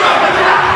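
A wrestling crowd at an independent show in West Newton yelling at a wrestler, a dense, loud wall of shouting voices filling the whole short moment.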